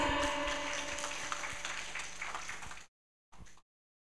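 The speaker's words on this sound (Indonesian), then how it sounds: "Boleh kita berikan tepuk tangan yang meriah?" Lecture audience on a university campus applauding, a steady dense clapping that runs for almost three seconds, cuts out abruptly, then briefly returns.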